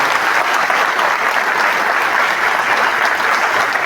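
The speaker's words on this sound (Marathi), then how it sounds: "आज सर्वात पहिले तुम्ही मागे एक मोठा टाळ्यांचा गडगडाट होऊन जाऊ दे त्या विद्यार्थ्यांसाठी" A large audience at a rally and felicitation ceremony claps loudly and continuously for honoured meritorious students, a dense, even wall of applause with no pauses.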